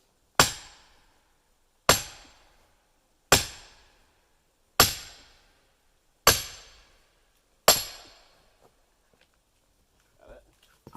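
Six loud, evenly spaced sledgehammer blows land on wood while splitting logs outdoors, each sharp crack ringing off into quiet, with faint small sounds and a brief voice near the end.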